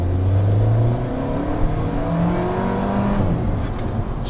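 An Alfa Romeo 4C Spider Final Edition accelerates hard, its engine note climbing steadily through the revs in a loud, close, continuous pull heard from inside the car.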